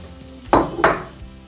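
Onions frying in oil in a pan for a one-pot chicken stew, two quick stirring scrapes over a low steady sizzle, close by with no talking.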